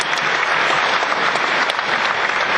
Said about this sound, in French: Applaudissons, et un tonnerre d'applaudissements pour le Père Pedro